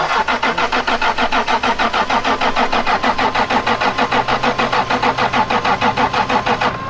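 A 1996 Toyota Tacoma pickup engine cranks with a rapid rhythmic chugging, then catches and runs at a loud, steady idle close by.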